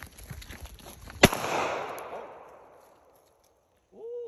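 Single sharp gunshot from a 3D printed 9mm Glock 17, loud and close, followed by a long fading echo, with faint voices before and a brief voice at the end.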